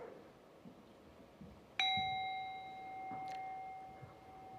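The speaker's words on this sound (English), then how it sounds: "We open our meditation circle by inviting the bell." A meditation bell is struck once to open a meditation circle at a Unitarian fellowship gathering, giving a clear, bright ding that hangs and slowly fades over several seconds in an otherwise quiet room.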